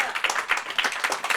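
Congregation clapping in rhythm during a French-language church worship service, a steady run of sharp, fairly close hand claps with a lively crowd texture and no talk over it.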